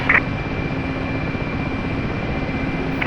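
Steady, loud whine and thrum of a Mi-8MTV2 helicopter's engine and rotor in the DCS flight simulator, a constant drone with a brief higher tone at the start.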